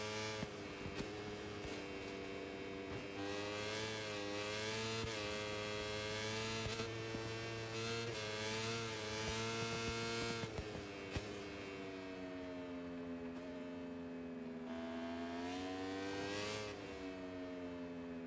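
A high-pitched Yamaha R1 motorcycle engine in the video game MotoGP 26 revs up and down repeatedly, whining through rising and falling pitches with a few shifts, steady and alone.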